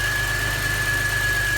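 1988 Chevrolet Beretta GT Z-51 EFX with a 2.8-liter engine and only 29,000 miles, running at a steady idle with a continuous low hum and a thin constant whine, alone and close.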